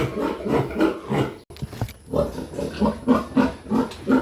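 Fifty-day-old piglet squealing while being weighed on a farm, rhythmic loud shrieks in rapid bursts with a brief pause in the middle, close to the listener.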